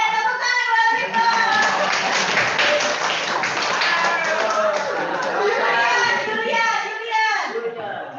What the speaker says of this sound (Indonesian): ya, tepuk tangan buat Rifdo